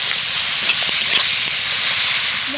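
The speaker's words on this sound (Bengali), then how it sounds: "এবার একটু মশলাটাকে কষিয়ে নেব।" Spice mix frying in a pan for a potato filling, a steady close sizzle with a few faint stirring scrapes.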